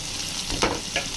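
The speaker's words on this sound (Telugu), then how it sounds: "ఇప్పుడు దీన్ని మూత పెట్టకుండా మంచిగా ఫ్రై చేసుకోవాలి." Mutton keema with fenugreek leaves frying uncovered in a pan: a soft continuous sizzle close by, broken by two short scraping stirs near the middle and end, no voices.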